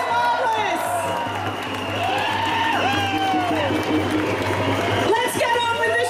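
A crowd at the March in May rally in Sydney applauds and cheers steadily throughout, with scattered whoops and shouts rising above dense clapping.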